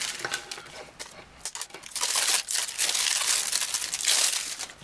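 Plastic wrapping crinkles and tears as it is peeled off a Volmate Mini portable digital multimeter, in close, irregular bursts that grow busier partway through.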